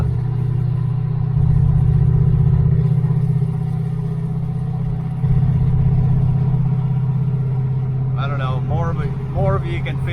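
A 1978 Dodge Aspen R/T drives along and shifts smoothly through first, second and third gear. A steady, loud, low engine drone holds throughout, with brief dips at the shifts, and a voice talks over it near the end.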